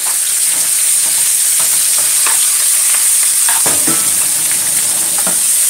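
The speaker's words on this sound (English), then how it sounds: "And I'm just gonna drop in my chicken. And this is a quick stir fry" Chicken stir-frying in a hot pan: a loud, dense sizzle with scattered spatters and stirring scrapes running throughout, without speech.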